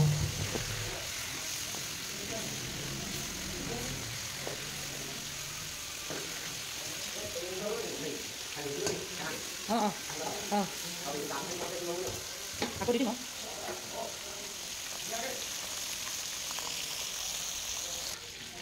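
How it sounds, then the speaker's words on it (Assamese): Fish sizzles and crackles in hot oil in a pan, a steady frying hiss broken by occasional scrapes and soft clinks of a utensil. "মাছখিনি 2-3 মিনিটমান ভাজি ললো"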